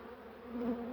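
Honeybees buzzing over the combs of an open beehive in spring, a steady close hum with no voices.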